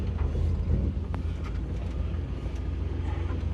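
A Land Cruiser fitted with a 1UZ engine drives on its first outing after about 15 years sitting in a shed, a continuous low engine and road rumble with wind noise, heard from inside and without talk.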